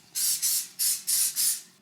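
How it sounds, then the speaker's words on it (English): Five short hissing spritzes from an aerosol can of cooking spray, close and evenly spaced, with a faint background hum. "I'll give it a light spritz with some cooking spray."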